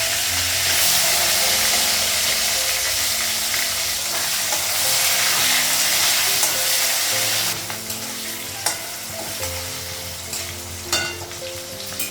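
Oil sizzling hard in a pan over a gas stove, a loud continuous hiss that drops partway through to a softer sizzle with occasional clinks and scrapes.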